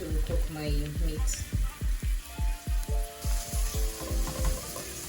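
Two onions frying in a sizable amount of oil in a pan, a steady sizzle broken by rhythmic stirring strokes and scraping about every half second, close and fairly loud, with no talk over it.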